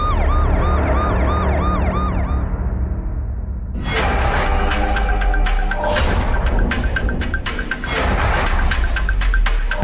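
An ambulance siren wails in a rising and falling pattern for a few seconds, then is swallowed by a dense, loud wash of sound that fills the rest of the scene.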